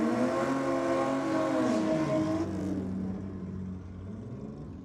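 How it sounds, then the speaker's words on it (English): A 1964 Ford Fairlane drag car roars past the finish line at a dragstrip, its loud engine howling high then dropping in pitch as it passes and fades into a lower rumble. "64 Ford Fairlane. Crosses the line."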